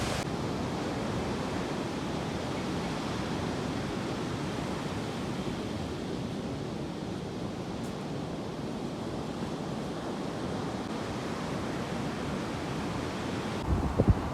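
Steady, continuous roar of ocean surf washing onto a beach in east Bali, broad and constant throughout with a slight wind rush and no talk.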